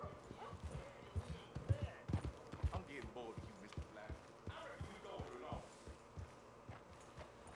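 Horse hooves clip-clop in a steady walking rhythm in Red Dead Redemption 2, close and moderately loud, with someone talking over them.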